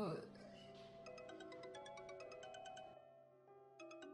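A mobile phone ringtone chimes in a repeating pattern of bright electronic tones, fairly quiet, playing steadily with a short pause near the end, set in a drama scene.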